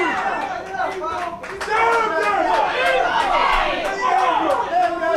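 Crowd at a boxing match, a packed audience cheering and shouting loudly and steadily with overlapping voices and scattered claps throughout.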